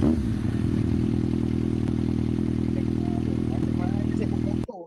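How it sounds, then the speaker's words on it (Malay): Motorcycle from a superbike research project, heard as a steady loud engine drone with mechanical clatter that runs for nearly five seconds and then cuts off abruptly. "Maksudnya saya naik motor."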